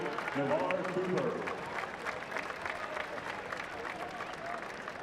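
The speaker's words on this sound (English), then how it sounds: "Have a round of applause for number 58, Navarre Cooper." A high school football crowd in North Carolina applauds steadily for an injured lineman as he is helped up, the clapping moderately loud and sustained, with some voices and cheering mixed in near the start.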